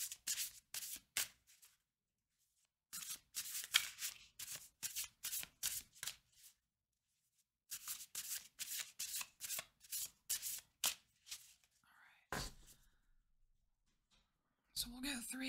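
A deck of oracle cards being shuffled by hand: bursts of rapid riffling flutter in several sessions separated by short pauses, close and crisp, with a brief thump and a faint murmur near the end.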